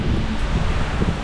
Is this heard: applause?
no